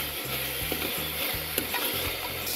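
Masala with tomatoes, red chilli and turmeric sizzles softly in a pan while a spoon scrapes and stirs in a steady rhythm of short strokes, close by.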